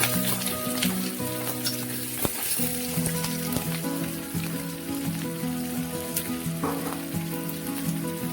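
Chopped onion fries in a pan in a steady, close sizzle with crackling spatters, while a spatula stirs now and then over the continuous hiss and no one speaks.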